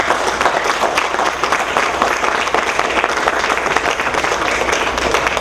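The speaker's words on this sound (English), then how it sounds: "Can you give him a round of applause?" Steady round of applause from an indoor audience for a councilman at a public event, dense and continuous clapping at an even loudness throughout.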